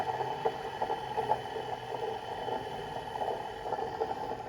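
Capacitor-start asynchronous electric motor winding down after being switched off, a steady whirring hum with faint rattles, fairly quiet and continuous without speech.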